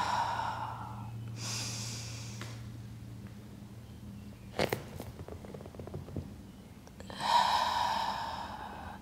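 Slow, deep breathing during a mat Pilates hip exercise, with long drawn inhales and exhales close by and a short sharp sniff in the middle.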